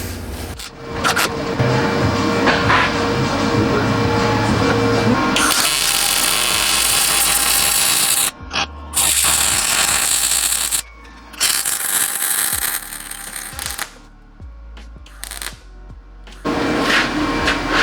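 Welding on a Montero ADD bumper kit gives loud, harsh crackling and buzzing in bursts of several seconds, broken by short silent pauses as the arc stops and restarts.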